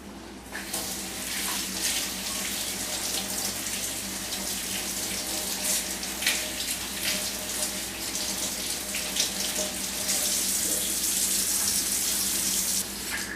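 Garden vegetables are rinsed in a sink under a running tap, which gives a continuous, fairly loud, even splash of water close by from start to finish, with no talking.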